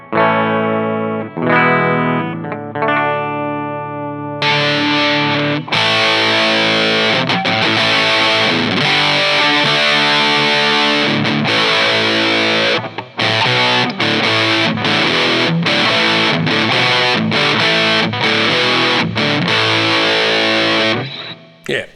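Electric guitar with a semi-hollow body played through a heavy fuzz distortion pedal, loud and saturated, with sustained chords and short choppy stabs.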